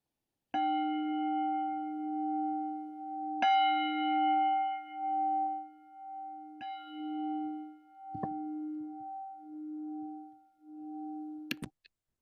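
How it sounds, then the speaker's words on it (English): A mindfulness bell struck three times, each ring a clear sustained tone with a long shimmering decay, the resonance gently pulsing as it fades, followed near the end by a couple of soft knocks in a quiet room. "The sound of the bell calls me back to my true self."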